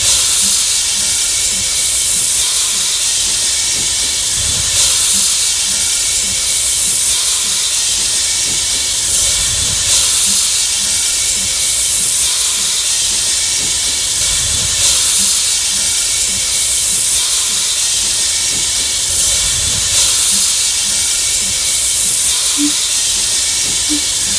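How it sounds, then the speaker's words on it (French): A Mikado 141 P steam locomotive runs on a factory test platform, its wheels turning over rollers in a loud continuous steam hiss with a regular rhythmic chuff and knock beating through it, without any voices. "La locomotive roule sur la plateforme."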